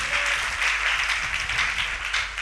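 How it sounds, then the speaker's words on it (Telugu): A church congregation claps continuously in praise of God, a dense, even wash of many hands with a soft voice faintly underneath. "చప్పట్లు కొట్టి దేవుని స్తుతిద్దాం."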